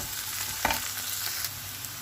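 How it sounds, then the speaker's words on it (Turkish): Carrots sautéing in a hot pan for leek stew give a steady close sizzle, with a couple of brief stirring scrapes and no voices. "hafif biraz da havuçlarımızı kavuralım"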